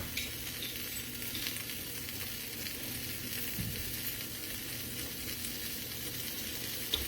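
A grilled three cheese sandwich frying in a pan, giving a steady, fairly quiet sizzle that continues unbroken with no talking.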